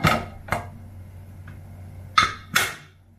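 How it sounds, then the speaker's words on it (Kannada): A pressure cooker of tomato rice gets its lid shut in a home kitchen, giving sharp metallic clanks and clicks in two pairs with a pause between, close and fairly loud. "ಕುಕ್ಕರ್ ಮುಚ್ತಾ ಇದ್ದೀನಿ ಇವಾಗ."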